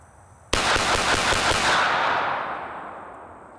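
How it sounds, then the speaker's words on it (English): A Sig P226 Legion or HK USP Expert pistol fires a quick string of about eight shots, loud and close, then the echo fades into an outdoor tail. "I'm gonna just shoot as fast and as steady as I can."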